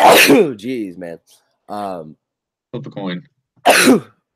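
A single sneeze bursts out near the end of a football podcast chat about the Champions League, following a man's short spoken remarks.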